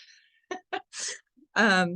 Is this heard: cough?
no